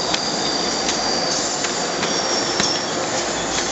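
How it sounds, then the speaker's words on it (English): A train rolls steadily past, loud and close, with continuous rail rumble, squealing wheels and periodic clicks from the rail joints, and no voices over it. "sorry, there's a train going by."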